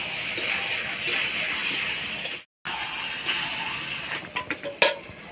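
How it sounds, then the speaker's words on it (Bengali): Chicken meat is stirred in a pot with scraping metal-on-pot clatter under a steady hiss of cooking, briefly cut off, then a few sharper knocks and scrapes toward the end. "মাংসটা ভালো করে নাড়াচাড়া করে নিব।"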